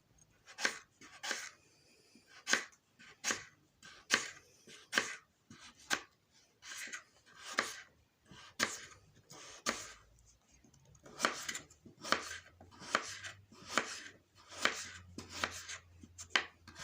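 Potatoes being cut into thick pieces on a board for aloo pakora, a close series of crisp knife chops in uneven bursts with short pauses between, clear and steady throughout, with no voices.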